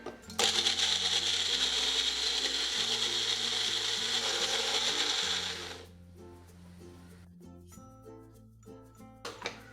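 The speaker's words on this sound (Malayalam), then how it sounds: "ഇതിലേക്ക് ഈ പുളിവെള്ളവും ശർക്കരപ്പാനിയും മുളക് പൊടിയും ആവശ്യത്തിനുള്ള ഉപ്പും ചേർത്ത് ഇത് നന്നായിട്ട് അരച്ചെടുക്കാം" A mixer grinder whirs loudly as it grinds tamarind water, jaggery syrup, chili powder and salt into a sauce for pani puri, then cuts off into quieter mechanical clicks and rattles.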